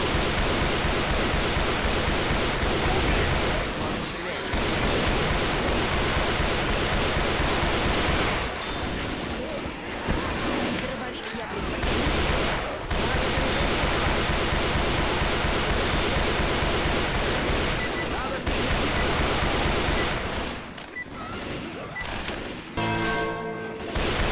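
Dense, continuous bursts of rapid gunfire, loud and close, with brief pauses between volleys and some faint voices.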